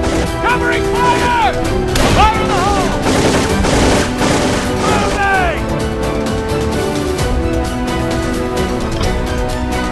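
Gunfire from the WW2 mobile war game Mobile Command: dense, continuous rattling shots and blasts fill the whole stretch at high volume, mixed with shouted voice lines and whistling, whining effects.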